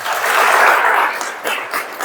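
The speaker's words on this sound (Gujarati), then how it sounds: "ફરી એકવાર તાળી પાડી" An audience claps at a Gujarati-language speech event on story writing, a swell of applause that peaks early then thins into scattered claps.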